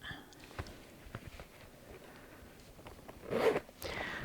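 A zipper on the back pocket of a leather luxury bag, with a quick soft zip pull near the end, preceded by faint scattered handling ticks at close range and low level.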